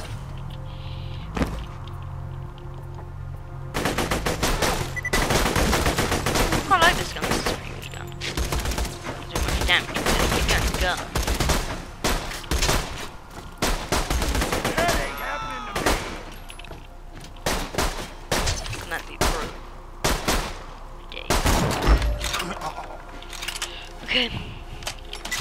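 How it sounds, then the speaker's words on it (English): Gunfire fills a Borderlands 2 gameplay session as enemies shoot at the player, with dense rapid bursts of shots over roughly twenty seconds, loud and near, broken by short pauses and mixed with other game noise. "I'm being shot at now."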